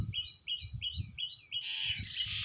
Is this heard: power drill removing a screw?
no